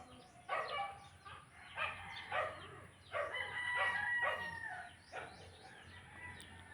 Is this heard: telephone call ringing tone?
no